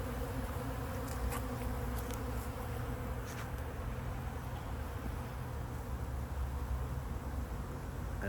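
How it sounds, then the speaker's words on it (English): A honeybee swarm hums around a bucket outdoors, a dense continuous buzz with no break, low and steady, with a few brief sharper clicks. "you can see the bees are"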